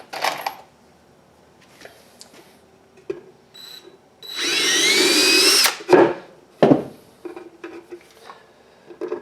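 A power drill drives a screw into the back panel of a wooden bluebird house, a short whining burst of the motor framed by scattered knocks, clinks and handling clatter nearby.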